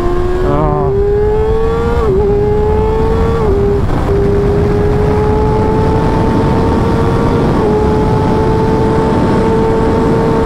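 A high-revving 2019 Kawasaki ZX-6R 636 cc inline four-cylinder engine screams steadily and loudly, its pitch shifting slightly up and down.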